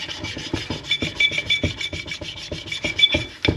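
A sharpening stone rubs back and forth across the cylinder head gasket surface of a Kawasaki Prairie 400 ATV engine, a loud, close, rhythmic rasping with quick regular strokes and no talking.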